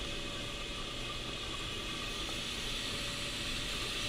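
Steady broadband hiss of steam escaping from an All American stovetop autoclave sterilizer, constant and even throughout with no pauses or voices.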